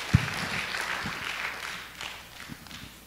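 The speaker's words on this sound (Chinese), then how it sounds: "我们再给个掌声" An audience at a church gospel film evangelism meeting claps. The applause is soft and somewhat distant, a loose patter of hands that swells and fades over about three seconds.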